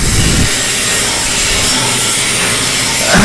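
Loud, steady roaring whoosh of a paddy and maize threshing machine's large cyclone fan blowing air, broadband and close, holding constant with slight swells at the start and end.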